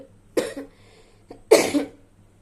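Two close coughs from a person, a shorter one followed by a louder, harsher, drawn-out cough, with a faint click between them in a quiet room.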